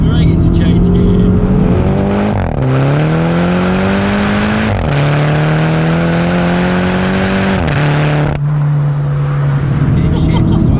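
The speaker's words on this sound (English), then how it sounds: "I'll get my foot down here a bit. It sounds great to change gear." A 300bhp Mini JCW hot hatch accelerating hard from inside the cabin, engine note climbing steadily then dropping sharply at each of two quick gear changes before pulling again; loud and continuous.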